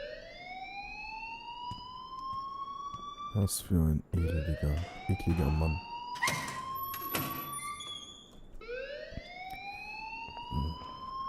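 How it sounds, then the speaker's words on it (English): An alarm rings in the video game Life is Strange, a rising electronic wail that sweeps upward again and again, loud and steady, while someone speaks briefly over it and thuds sound in between. "please turn off that alarm"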